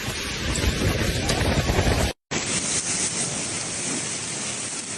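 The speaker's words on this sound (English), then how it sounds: "heavy rain accompanies hail strikes Ningbo, Zhejiang" Heavy rain with hail pours down during a hailstorm with strong wind in Ningbo, Zhejiang, a loud, dense, continuous hiss of water and pelting, broken by a short cut midway before the downpour resumes.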